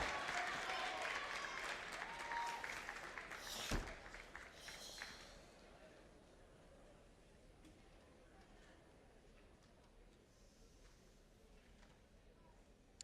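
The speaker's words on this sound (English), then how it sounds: "crowd getting into it with a little soul clap" Crowd applause at the Warrior Cup traditional martial arts forms competition, a dense burst of clapping up front with a sharp clap near the middle, then fading to a thin murmur of scattered claps.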